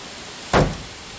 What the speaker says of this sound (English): And that one hit the bar of metal on the door.